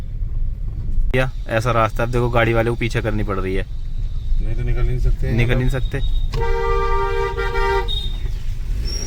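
A car edges backward along a narrow village lane with a low engine rumble under steady road noise, and a horn sounds in a long honk near the end while people nearby talk.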